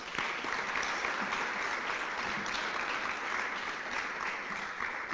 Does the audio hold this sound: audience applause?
yes